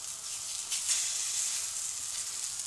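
Food sizzling and frying in a very hot pan, a steady bright crackling hiss close by with small bursts of spatter, heard alone with no talking.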